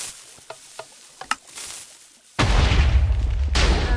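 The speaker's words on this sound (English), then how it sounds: "For this one, I know you can get a farther explosion like" A TNT cannon in Minecraft fires with a sudden loud, sustained blast that roars on for over a second, then a second explosion lands on top of it, after a few faint clicks and pops.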